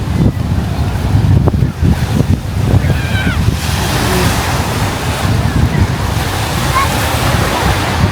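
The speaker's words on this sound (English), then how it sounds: "It is very windy today and the water is showing it." Waves wash steadily against a pebbly shore at Put-in-Bay while strong wind roars across the microphone, with a brief voice near the start.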